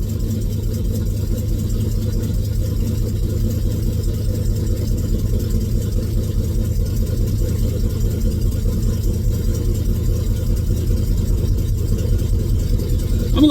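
A 1984 Ford F250 engine idling after a flooded cold start, a steady, loud low rumble that runs unbroken and alone.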